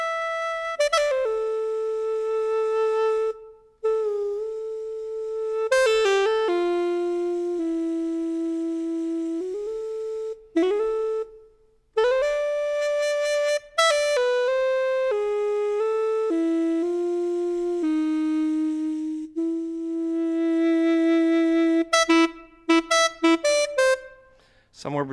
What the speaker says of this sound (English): Somewhere between a sax and a clarinet. They call it a sax.